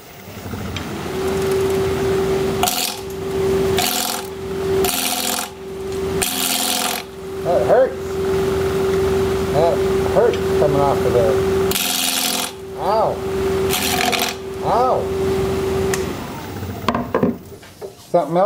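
A wood lathe spins a bowl blank at about 1300 RPM while a 5/8-inch bowl gouge cuts it, making a steady tonal whine broken by repeated rough scraping bursts and pauses, close and loud, with brief talk between cuts.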